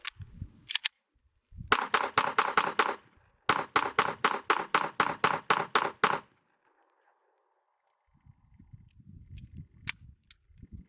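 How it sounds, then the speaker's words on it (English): A Smith & Wesson M&P 2.0 Metal Carry Comp pistol fires two rapid strings of about six and eight loud, sharp shots in quick succession, with a couple of isolated reports before and after, outdoors with no talking. "there is absolutely zero problem cycling this beautiful gun"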